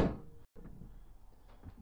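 A fridge door fitted into the canopy of a Landcruiser 79 Series shuts with a single soft, close thunk at the start, followed by quiet faint rustling and handling noise.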